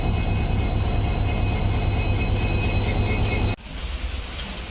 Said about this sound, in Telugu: Diesel locomotive.